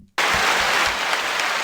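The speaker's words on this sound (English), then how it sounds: "Round of applause. Round of applause." A sudden round of applause bursts in after a brief silence, dense, close clapping from a small group that continues steadily to the end.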